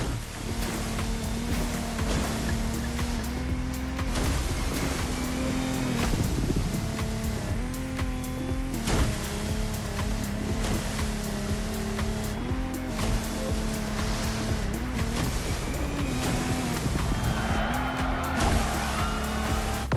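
Powerful racing boat engines, including a Lamborghini, roar and rev continuously over rushing, splashing water in The Crew Motorfest, loud and sustained with shifting motor pitch.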